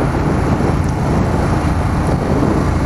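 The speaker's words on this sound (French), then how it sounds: "même si la moto fait pas mal de bruit" A Yamaha Tracer 9 GT motorcycle rides along a road, a loud steady engine drone mixed with heavy wind rush that holds constant throughout.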